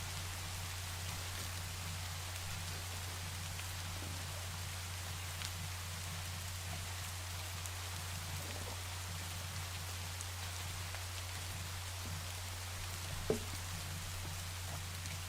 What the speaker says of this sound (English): So we have another rainy day.